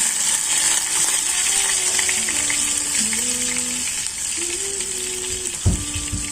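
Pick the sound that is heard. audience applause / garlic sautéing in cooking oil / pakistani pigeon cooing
garlic sautéing in cooking oil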